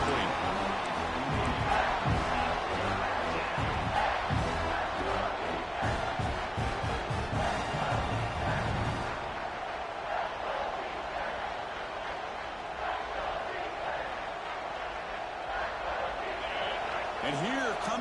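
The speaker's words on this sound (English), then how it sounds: "This crowd is trying to inspire this defense to make a big red zone stop." Stadium crowd noise in a college football video game, a loud, sustained roar of fans building during a red zone stand, with rhythmic stomping and chanting under a commentator talking.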